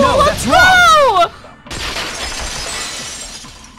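A vase shattering in the video game Danganronpa 2: a brief vocal sound comes first, then a loud, bright crash of breaking ceramic that trails off into scattered debris noise.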